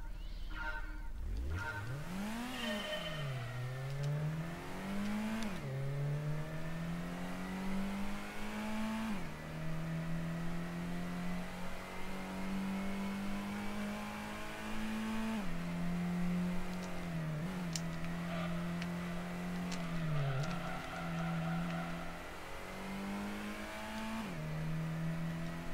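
A Nissan Silvia's engine revs continuously in a Gran Turismo licence test, its pitch climbing and dropping with each gear change and corner over a steady, loud drone, with faint tyre noise.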